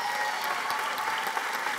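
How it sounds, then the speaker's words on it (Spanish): Theater audience applauding in a performance hall, a continuous wash of many hands clapping at an even level, somewhat distant and without speech. "Un aplauso a la gran Lila"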